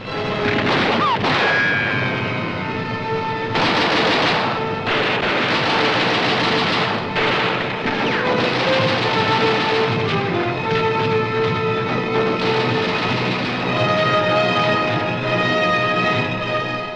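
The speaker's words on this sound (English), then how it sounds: "the crossfire of German guns still rakes the shore" Wartime newsreel gunfire from German guns raking a Normandy landing beach, a dense, loud, continuous barrage of booms and crackling shots with scattered sharper bursts, set under an orchestral film score.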